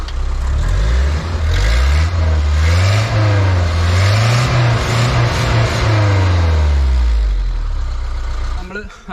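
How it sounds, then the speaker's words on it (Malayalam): A Matador 4x4 with a Mercedes-Benz engine, an abandoned vehicle restored, revs up close and loud, its exhaust rising and falling through several throttle blips before dropping back at the end. "അതേപോലെ തന്നെ ഇതിൻ്റെ എക്സോസ് നോട്ടും കൂടെ ഞാനൊന്ന് കേൾപ്പിച്ചു തരാം."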